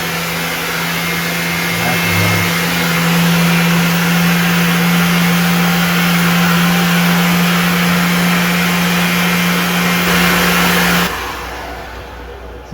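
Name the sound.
Flowbee haircut clipper with vacuum cleaner running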